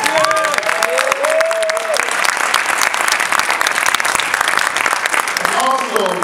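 Enthusiastic audience applause at an urban action showcase event, broad crowd clapping sustained throughout with scattered whistles and cheers rising above it.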